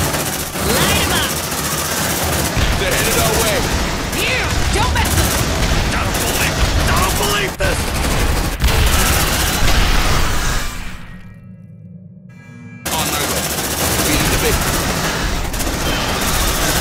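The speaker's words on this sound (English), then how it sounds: "Suppressive fire!" Sustained suppressive gunfire and bursts of automatic weapons in the sci-fi tactics game Aliens Dark Descent while defending a landing pad, loud and dense with a brief lull near the end, under shouted voices.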